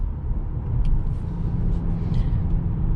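Engine of a 2021 Mercedes-Benz GLA in sport mode, a steady low rumble with rising revs heard from inside the cabin, continuous and fairly loud with no talking.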